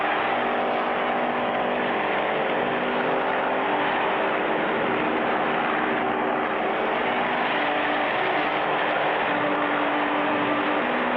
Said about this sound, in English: Clutch and Spinner get the race car started and are on the track